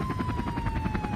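Helicopter overhead during a high-speed police chase, a rhythmic pulsing rotor thump with a steady whine, loud and continuous through a short moment.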